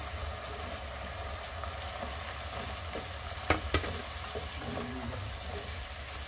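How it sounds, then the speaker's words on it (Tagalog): Liver and carrots for lomi sizzle in a pan, a steady close frying hiss with a few sharp clinks of a utensil being stirred through midway. "Lagyan na natin ang ating liver. Yung ating carrots."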